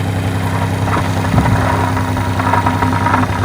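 An e-vibe device mounted on a truck buzzes while operating, a loud, steady, low droning hum that holds without a break throughout, with no talk over it.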